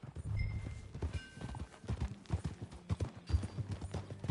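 Horse hooves clip-clop at a steady walking rhythm in the Red Dead Redemption 2 video game, close and clear, with a few faint vocal sounds in the background.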